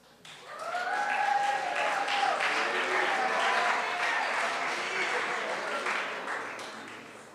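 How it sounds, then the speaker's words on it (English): Audience applause rises and holds through a school awards chapel, broad and steady, with a voice briefly audible over it before it tapers off. "let's give them a round of applause when they come out"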